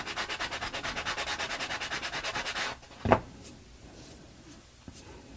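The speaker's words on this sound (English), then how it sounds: "I am sanding a little bit into the image because this is just going to distress it" Rhythmic back-and-forth strokes of sandpaper on a paper image glued to a wooden block scrape close by for a few seconds, then stop, followed by a soft knock and quiet handling sounds.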